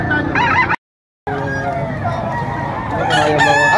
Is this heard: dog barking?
no